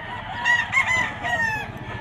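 A young gamecock stag of Golden Boy bloodline crows at a pet market in Bocaue, Bulacan: one loud, close crow with several rising and falling strained syllables over a low background murmur.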